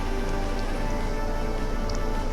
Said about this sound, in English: It uses Sandstorm